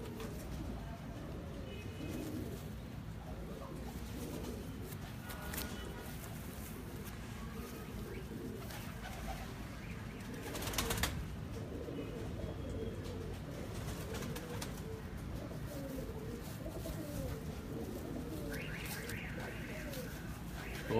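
Pigeons coo softly in a low, murmuring run against steady background hum, fairly faint and close, with occasional brief clicks and a short higher chirp near the end.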